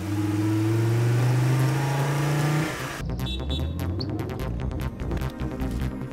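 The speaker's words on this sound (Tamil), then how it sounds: "வண்டி எடு" A car engine revs loudly with rising pitch before the vehicle pulls away, the sound shifting into a rougher, rumbling drive with scattered knocks and rattles.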